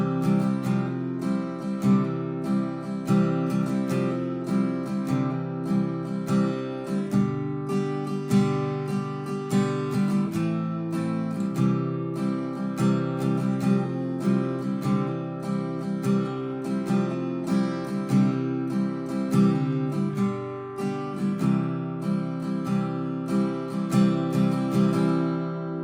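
Guitar playing the intro to a song at regular speed: a continuous fingerpicked pattern of ringing notes in a steady rhythm, close and clear, with no voices.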